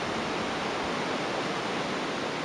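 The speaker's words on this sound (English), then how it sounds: "I could hear the water" Mountain stream water rushing in the Swiss Alps near the tree line, a steady, even broadband wash of flowing water, distant and soft, with no talk.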